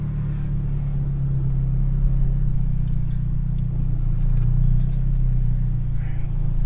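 A 2005 Honda Civic Si EP3 with a straight-piped exhaust sits in neutral, giving a loud, steady, low droning rumble up close with a few faint clicks over it and no voices.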